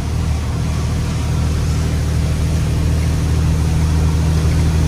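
A car engine pulls steadily while climbing a steep mountain road in fifth gear, a constant loud low drone with a hum that holds evenly from start to finish.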